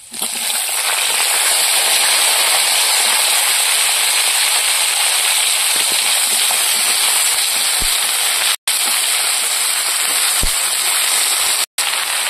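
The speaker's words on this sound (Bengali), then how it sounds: "রসুনটা লাল করে ভেজে নিয়েছি, এবার বেগুনগুলো দিয়ে দেবো।" Eggplant pieces sizzle in hot oil in a pan with garlic already fried red, a steady dense crackling hiss filling the whole stretch with two brief drops near the end.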